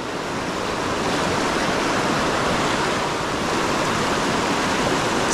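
Steady, loud rushing of the Salmon River running a little high at a steelhead fishing spot, a continuous broadband roar with no talk.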